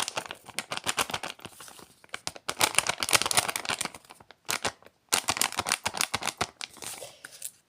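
Paper surprise packets being torn open and handled up close, bursts of crisp ripping and crinkling in quick rhythmic strokes separated by short pauses, with no speech.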